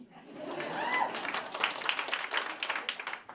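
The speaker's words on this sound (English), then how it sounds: "Yes, you can clap for that." An evening event audience breaks into clapping that swells and continues, individual claps audible in a fairly close, moderately loud burst.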